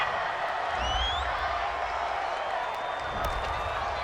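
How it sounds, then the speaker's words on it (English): A home stadium crowd roars and cheers a call in the video game Madden NFL 20, a broad, steady swell of noise with a couple of whoops rising above it. "This home crowd, they're happy with that call."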